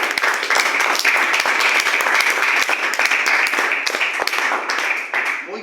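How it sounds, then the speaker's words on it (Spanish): An audience at a religious talk bursts into steady applause, dense overlapping clapping held at an even level from start to finish before easing slightly at the very end. "Denle el aplauso a tu compañero."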